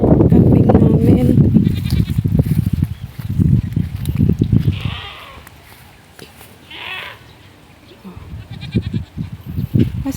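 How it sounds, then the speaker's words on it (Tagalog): Several young goats bleat in short, high calls, close by, with some rustling and movement between the cries. "napunta yung mga anak ni kambing namin"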